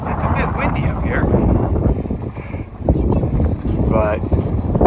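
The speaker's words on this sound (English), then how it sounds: "It's a bit windy up here" Strong gusts of wind on a mountain summit buffet the microphone throughout, a constant rumbling roar with people talking underneath.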